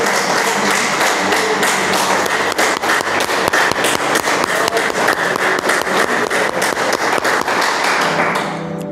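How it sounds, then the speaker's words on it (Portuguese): A church congregation claps together during a Portuguese-language sermon, a dense, steady patter of many hands that carries on for about nine seconds before tapering off at the very end. No voices are heard. "Vamos aplaudir o Senhor."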